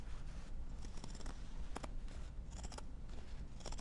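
Scissors snip through fabric, trimming the seam allowance on a sewn Christmas stocking, with a quick run of close, crisp cuts in irregular rhythm and no talking.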